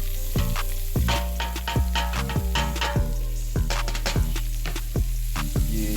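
Sausages and a whole onion fry in a pot for homemade jambalaya, giving a steady close sizzle broken by repeated scraping knocks of a spoon stirring against the pot.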